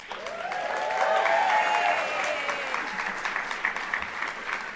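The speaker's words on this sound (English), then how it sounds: "y'all were supposed to applaud" Applause from the audience at a university awards ceremony, a broad wash of clapping that swells early, peaks mid-stretch and then thins out, with some tonal ringing and faint background voices underneath.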